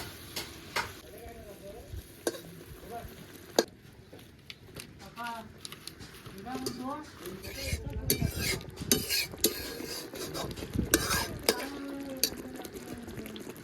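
Pabda fish pieces drop into boiling curry gravy, giving a bubbling, stirring clatter with splashes and a few utensil knocks that grow busier toward the end, with talk over it.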